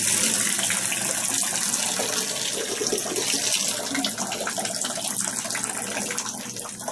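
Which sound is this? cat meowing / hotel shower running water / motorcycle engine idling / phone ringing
hotel shower running water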